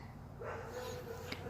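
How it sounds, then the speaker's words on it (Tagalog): The neighbour's dogs give a short burst of barking and yipping that sounds faint and somewhat distant outdoors, mixed with low background noise. "Ang ingay ng aso ng kapitbahay ko. Tinatahulan yata ako."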